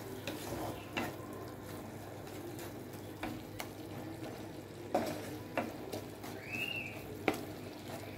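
Beef kofta curry spices and salt stirred in a pan: faint intermittent scraping and tapping of a spoon against the pan over a low background, quiet and close.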